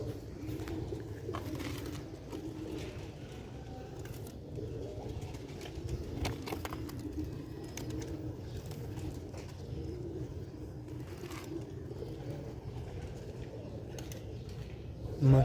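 Ali-wale pigeons cooing at a loft, a soft, continuous low warble rolling on for the whole stretch with no pauses, fairly close, over faint outdoor background noise.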